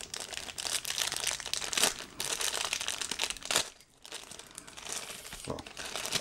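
Plastic bag around a pair of headphones crinkles and rustles continuously as it is unwrapped during an unboxing, loud close-up crackling with a few sharper crunches and one brief pause.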